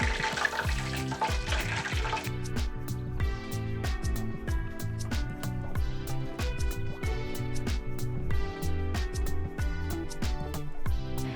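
Shrimp deep fry in hot oil with a dense, continuous crackling sizzle and rapid popping, close and steady, with a brief burst of louder bubbling at the start.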